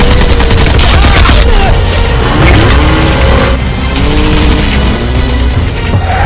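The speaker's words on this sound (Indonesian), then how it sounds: "Mereka berusaha kabur dari tembakan para zombie." Loud, dense gunfire in a Resident Evil zombie film scene: rapid bursts of shots and booms over a dramatic soundtrack, continuous for several seconds with no pauses.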